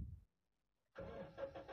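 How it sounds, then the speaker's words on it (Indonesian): A brief crank, a moment of near silence, then the petrol engine of a 2005 Toyota Kijang Innova G manual catches and settles into a steady running rumble, close by. "ini suara mesin dari Kijang Innova bensin 2005"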